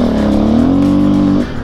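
A new motocross motorcycle engine revs loud and close, its pitch climbing and holding before cutting off abruptly near the end.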